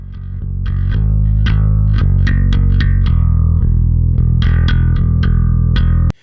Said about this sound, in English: here's what that bass sounds like. It's nice and gritty